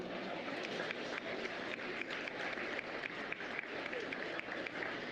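A crowd applauds the kids at a 2025 swine show, a dense, steady round of clapping that sounds somewhat distant and fills the whole stretch without clear talking.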